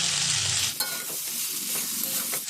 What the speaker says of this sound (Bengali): আমলকি দিয়ে দিচ্ছি। দিয়ে দিচ্ছি আমি হাফ চামচ মতন লবণ, সামান্য একটু হলুদ।